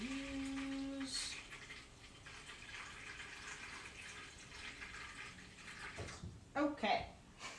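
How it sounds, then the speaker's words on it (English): Water from a tap pours into a bucket in a ceramics studio, a steady rushing hiss that runs the whole time and swells near the end, while a person talks over it. "I'll actually need to fill up my bucket with some water"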